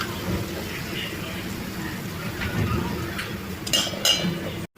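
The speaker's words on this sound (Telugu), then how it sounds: "వీటన్నిటిని కూడా ఈ గిన్నెలోకి అయితే వేసుకుందాం" Fried bitter gourd is transferred from the pan into a steel vessel, a low steady clatter that ends in a few sharp metallic clinks near the end.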